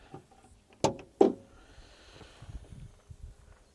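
The hood of a 2020 Mercedes-AMG GLC63 S Coupe being released and lifted: two quick, sharp latch clunks in close succession, followed by faint rustling in a quiet space.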